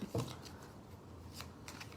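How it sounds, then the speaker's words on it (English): A deck of playing cards shuffled by hand, with quick soft riffling and papery flutters, quiet and close, during a tarot-style reading. "I apologize for the sloppy shuffling, but it's the way I do it."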